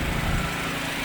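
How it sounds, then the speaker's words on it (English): A generator engine drones without a break, a continuous low rumble with a buzzing edge, close by and fairly loud, with no voices over it. "Sorry about the noise of the generator."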